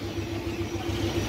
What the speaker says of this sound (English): Car sounds so good, man.